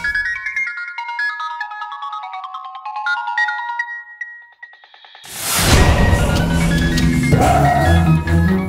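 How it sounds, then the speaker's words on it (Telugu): A phone rings with a melodic electronic ringtone for several seconds, clear and fairly loud. It then gives way to loud, swelling dramatic music. "ఈ కాల్ ఎక్కడి నుంచో తెలుసా స్రవంతి?"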